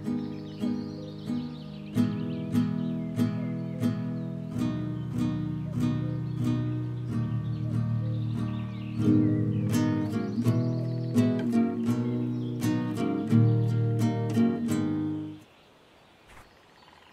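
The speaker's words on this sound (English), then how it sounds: "we have a guitar, where if you play a couple of notes in the correct order" Guitar notes played inside the fishing video game Russian Fishing 4 at the Belaya River location, a steady run of plucked notes in repeating groups over about fifteen seconds, fairly loud and without talk, then cutting off into near silence.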